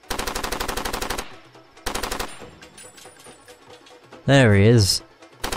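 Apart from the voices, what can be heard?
gunfire from the video game Far Cry 2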